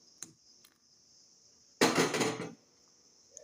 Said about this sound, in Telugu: బెల్లం అంతా కలిసిపోయిన తర్వాత కాచి చల్లార్చి పక్కన ఉంచుకున్న పాలను ఇందులో పోసి